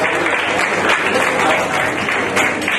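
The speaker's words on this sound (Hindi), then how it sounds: "देखिए तालियां बजती रहनी चाहिए दादा के लिए" A hall full of people applauds at a Kashi journalists' association gathering: dense, loud, continuous clapping with no gaps and no clear voices over it.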